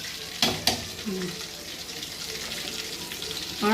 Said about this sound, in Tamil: இந்த கொதிக்கிற எண்ணெயை இந்த வறுபடாத இடத்துல ஊற்றினா கொஞ்சம் வேகும், சீக்கிரமாக வறுக்கணும்